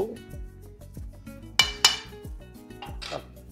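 A metal lid goes onto a cooking pot of simmering pork hock (pata) with two sharp, bright clanks in quick succession. Softer knocks of pots and utensils come before and after, with no talking.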